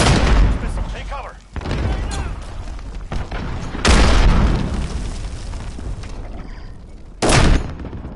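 Repeated heavy booms and blasts from incoming missile strikes in a Call of Duty match, loud and close, with three big bursts standing out over continuous gunfire and battle noise, game voice callouts mixed in.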